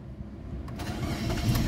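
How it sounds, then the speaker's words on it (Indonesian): A 2014 Daihatsu Sirion 1.3 automatic being started: a brief cranking burst that settles into a steady, close engine idle rising slightly in level. "Sekarang kita coba nyalakan mobil."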